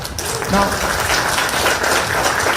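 An audience at a political speech about a long walking yatra claps steadily throughout, a crowded patter of hands with a faint voice briefly audible underneath.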